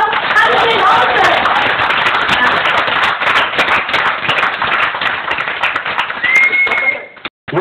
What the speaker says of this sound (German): Nochmal Applaus für Frau Hannelin Olsen!